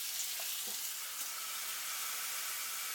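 Turkey cooking on a George Foreman submersible electric grill under its lid, heard as a steady, even high hiss of sizzling with a few faint clicks, moderately quiet and unbroken for the whole stretch.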